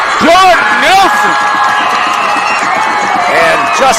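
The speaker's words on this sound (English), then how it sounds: "this crowd's going crazy" Football crowd at a high school game roaring and cheering after a touchdown, a loud sustained wall of voices with whoops and shouts rising over it, close and continuous.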